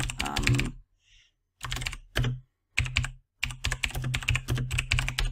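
Fast bursts of typing on a computer keyboard while entering text in Photoshop, close and clear, in several runs of clicking keystrokes separated by short pauses, with no talking.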